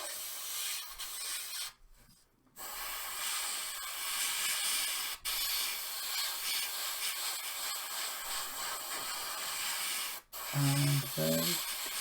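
An airbrush sprays paint in a steady, close hiss onto a Legio Mordaxis Adeptus Titanicus miniature, with a couple of brief pauses between bursts and a short clatter near the end.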